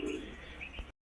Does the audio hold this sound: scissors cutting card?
no